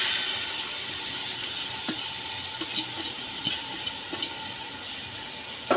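Masoor dal spices hit hot oil in a pan, giving a steady close sizzle and hiss with a few faint clinks, and no one speaking.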